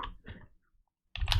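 Keys clatter on a computer keyboard in a quick burst, a pause of near silence, then another dense run of clicking as a number is entered in an Excel spreadsheet.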